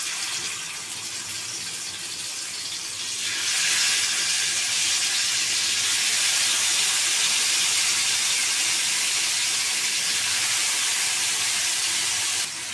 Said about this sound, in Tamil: இப்போ ஃபிஷ் போட்டு வறுத்துக்கலாம்.